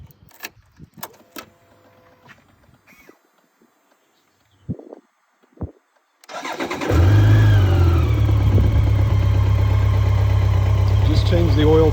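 A 2009 BMW K1200LT motorcycle engine cranks and catches after several scattered clicks and knocks, then settles into a steady, close, loud idle that runs without a break.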